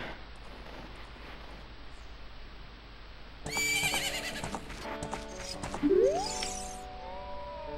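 A horse in Zelda: Ocarina of Time at Lon Lon Ranch gives a loud, close whinny over a steady game ambience, with a chiming jingle and a second shorter neigh near the end, no talking.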